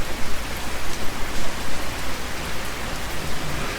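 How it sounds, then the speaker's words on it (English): Steady rain falls over a fishing pond, a dense, continuous hiss of drops striking water and nearby surfaces, with no voices. "But it's raining."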